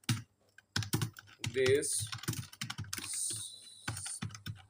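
Keys clatter on a computer keyboard in quick irregular bursts while a comment is typed into a word processor, close and fairly loud, with someone speaking briefly between the keystrokes.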